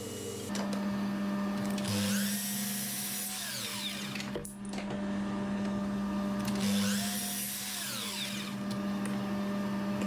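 An electric sander works through plywood pieces clamped between scrap boards for a spice caddy, a steady loud whining buzz running the whole time, with a brief dip in the middle as it runs off the edge.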